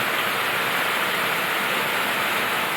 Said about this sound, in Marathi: एकदम जोरात पाऊस चालू आहे